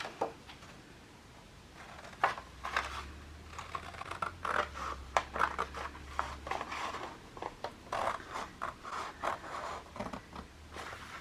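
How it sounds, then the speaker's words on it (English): Scissors snipping through paper in a steady series of short crisp cuts, close and fairly quiet, with light handling noises between them. "You're just gonna take your scissors and I'm just gonna cut the crease"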